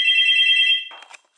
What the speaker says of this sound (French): là c'était le téléphone.